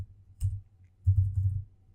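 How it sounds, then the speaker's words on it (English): Computer keyboard being typed on, a few soft, close, muffled clusters of key presses with short pauses between them, no voices. "and then I'm going to type in"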